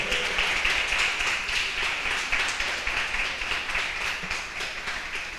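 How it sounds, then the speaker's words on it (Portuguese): A church congregation applauds together in a dense, steady wash of many hands clapping. It holds at an even level for several seconds with no voices over it. "levanta a mão para o céu e aplauda ao Senhor Jesus"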